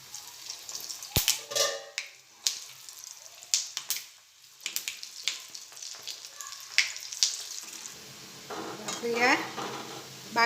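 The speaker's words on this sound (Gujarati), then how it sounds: "હવે આપણે એ જ રીતે બીજી પણ તળી લઈશું." Kothimbir vadi, crisp coriander fritters, frying in a pan with a soft bubbling sizzle broken by clattering utensil knocks and scrapes, then a rising hiss near the end.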